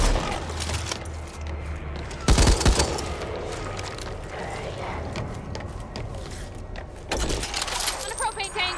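Gunfire in Back 4 Blood, sharp bursts of close gunshots at intervals over background game noise, with a voice speaking between the volleys.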